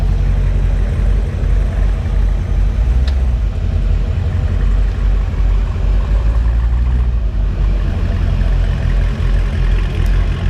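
A Corvette with a Borla exhaust and a faulty, jacked-up exhaust runs steadily nearby, a deep, even rumble with a couple of brief sharp clicks on top.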